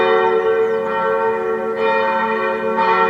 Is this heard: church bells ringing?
yes